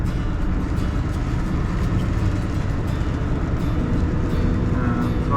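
A Scania skip lorry's heavy diesel engine drones steadily and loudly in manual fourth gear with the diff lock engaged, a constant low rumble with no voices.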